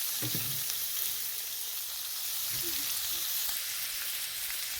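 Chorizo and eggs frying in a pan, giving a steady dense sizzle throughout with a few faint spatula scrapes and taps as they are broken up, close and continuous with no speech.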